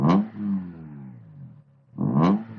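A Honda Civic Type R's VTEC engine revs sharply twice, each blip rising to a loud high-pitched wail and then falling away through a descending whine, with a quiet gap between.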